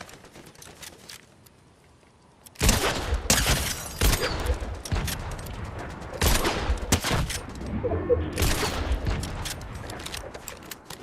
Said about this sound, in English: Yeah, that sounds like the laser beam.